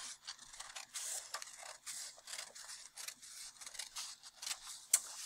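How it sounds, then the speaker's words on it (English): Scissors snip through folded paper while a full face mask of a hippo is cut out, a rapid run of close, crisp cuts and scraping blade strokes with no talking. "Okay, so I've got my scissors. I'm going to cut my fold"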